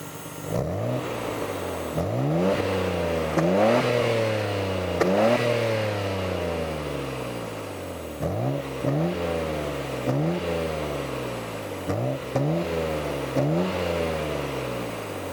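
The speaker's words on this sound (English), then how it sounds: "I'm gonna start her up, give her a couple revs for the camera" A car engine fires up and revs repeatedly, each throttle blip rising sharply and falling away, loud and close with no talk.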